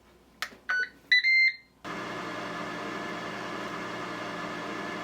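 Ninja Crispi air fryer cooking asparagus coated in olive oil, salt and pepper: three short electronic beeps sound from close by, then the appliance starts up into a steady whooshing fan hum that continues alone.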